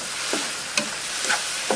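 Enoki mushrooms stir-fry in oil in a Teflon pan for a dish with egg, giving a steady close sizzle broken by a few brief scraping stirs of a utensil.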